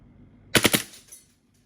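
Custom Glock 35 replica pistol firing a rapid three-shot burst in full auto, sharp close cracks in quick succession followed by a short fading tail, with quiet room background before.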